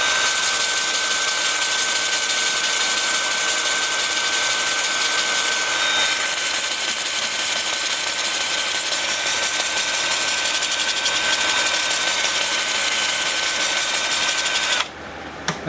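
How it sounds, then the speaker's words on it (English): A wood lathe runs in reverse at about 350 rpm while a bowl is sanded with a Sandoflex disc, giving a steady, continuous mechanical hum with a faint whine that holds unbroken throughout. "And then the lathe is spinning in reverse at about 350."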